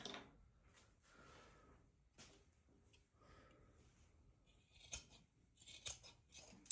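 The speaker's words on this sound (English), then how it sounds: "I'm gonna cut another rag out" Scissors snip through a cloth rag in a run of quiet, close cuts, with faint rubbing and handling between snips.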